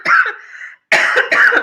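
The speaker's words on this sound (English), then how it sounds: "I have never coughed on a live stream before" A short burst of coughing, a few harsh coughs close up, then a brief pause and two more rapid coughs.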